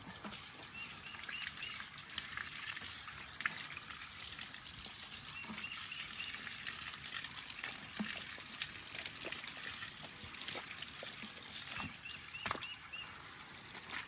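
Water rinses a freshly descaled catfish outdoors, a soft, continuous hiss and splash heard at low level throughout, with occasional faint clicks.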